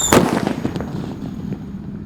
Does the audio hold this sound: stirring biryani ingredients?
no